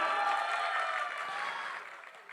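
Applause from the crowd at a film trailer launch in a large hall, a broad wash of clapping with some tonal hum over it that gradually tapers off.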